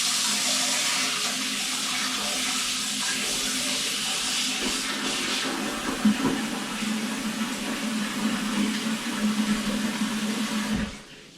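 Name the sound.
tap water filling a mixing bowl to rinse it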